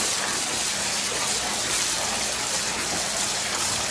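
A hose sprays water back and forth over DE filter grids in a commercial pool's filter tank, a steady broadband gushing hiss held level across the whole stretch.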